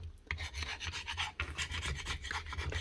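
A chisel rasps and scrapes hardened cement off a Bosch GRW 12 E mixing drill, giving repeated close, gritty strokes in an uneven rhythm with no talk.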